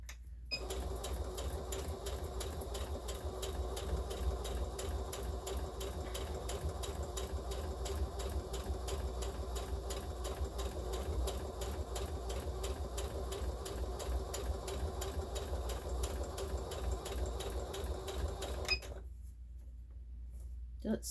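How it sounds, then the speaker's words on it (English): A sewing machine stitches the bottom seam of a child's fabric tote bag lining with a steady, close, continuous whirring hum for about eighteen seconds, then stops abruptly. "And now I'm doing the seam. I'm sewing the bottom"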